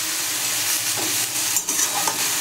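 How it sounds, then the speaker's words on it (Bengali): Beans, with cauliflower to follow, are stir-fried for fried rice, giving a loud, dense continuous sizzle close up with a few brief clinks and scrapes of the spatula. "বিনসটাকে ভালো করে ভেজে নেব।"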